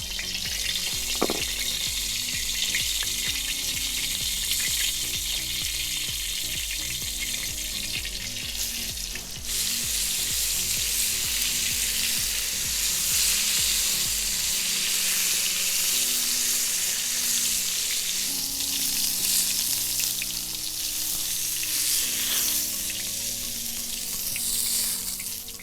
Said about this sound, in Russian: И отправляем жариться.